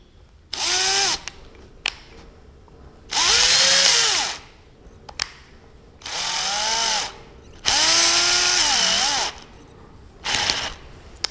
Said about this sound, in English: screwdriving with the screws.